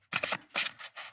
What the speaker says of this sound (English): let's cue some ASMR shuffling that's never ASMR shuffling